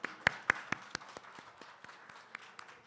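Faint, sparse clapping from a small forum audience welcoming a session chair, a few sharp claps at first then thinning out into scattered taps.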